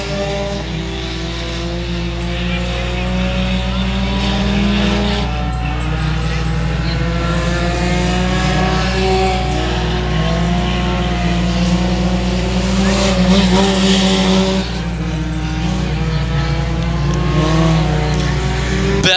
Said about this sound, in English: Down the back straightaway, Bevels will go to the race lead